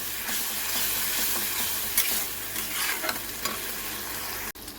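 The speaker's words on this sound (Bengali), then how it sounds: "ভালো করে কষাবো" Masala for bhola fish curry sizzles in hot oil in a pan while being stirred, a steady close frying hiss broken by scraping strokes of the spoon.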